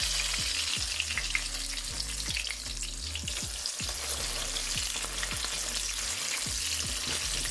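Jamaican saltfish fritters frying in hot oil crackle and sizzle continuously at close range, a dense bubbling texture that runs under background music with no speech.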